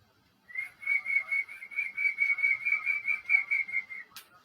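A man whistles an imitation of a quail (lava) call as one long, steady, warbling tone lasting several seconds, close and clear, ending with a brief click.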